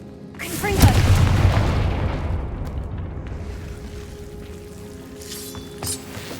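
In the Hogwarts Legacy video game, a Confringo spell bursts into a deep booming explosion that rolls and rumbles for a few seconds before fading under ongoing game sounds.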